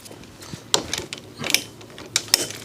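Wrench loosening a brake line fitting on a quad racer, close, light ratcheting clicks and metallic ticks in short irregular bursts, with no talking.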